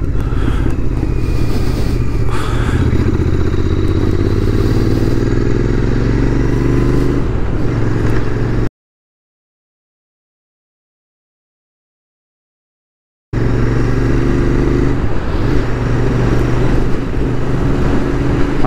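A Royal Enfield motorcycle runs on the road with its engine droning loudly and steadily, wind rushing throughout, a few small exhaust pops faintly mixed in, and a silent gap mid-way before the riding resumes.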